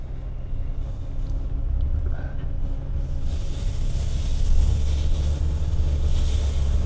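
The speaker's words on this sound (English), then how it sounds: "go for a short test drive here around our parking lot, just so you can see how the van handles" Interior of a 2019 Mercedes-Benz Sprinter 2500 4x4 crew van creeping around a crowded parking lot, a steady low engine and road rumble filling the cabin with some wind noise and no talking.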